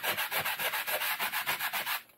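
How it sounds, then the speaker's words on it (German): Hand sanding of laser-cut wood with a sanding pad: steady rhythmic back-and-forth rubbing strokes, roughly a dozen even passes, close and clear with no talk, ending abruptly. "Und dann schleift man hier so lange drüber,"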